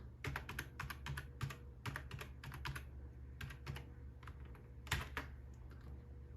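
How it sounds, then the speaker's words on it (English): A password typed on a computer keyboard, with quick, uneven bursts of soft clicking keystrokes, close and quiet, over a low steady hum. "Now you have to insert your password, so let me do that."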